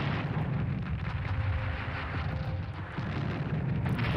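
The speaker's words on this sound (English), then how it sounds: "Then we're going to artillery the hell out of it." Artillery shelling from a Strategic Command World War 1 game, a continuous low rumbling barrage of distant blasts rolling together with a dull, thunderous booming that never fully stops.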